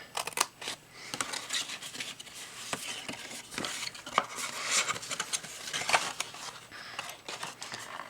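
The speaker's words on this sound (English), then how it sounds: "So I am cutting away the score line." Scissors cutting away the score line on a paper candy bar box, a close, quiet series of crisp snips and papery rustles repeating irregularly throughout, with no talking.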